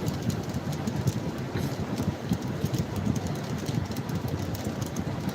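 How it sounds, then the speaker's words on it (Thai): Steady rain hisses down with a dense, even patter, a constant wash of noise with no voices. "ฝนตกแล้วครับ"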